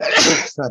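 A single sudden sneeze bursts out, loud and close, followed at once by a person speaking briefly.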